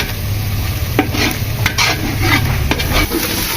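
Garlic-ginger paste fries in ghee in a pan for beef paya, a steady close sizzle with repeated scraping stirs of a spoon against the pan and a low hum beneath, no voices.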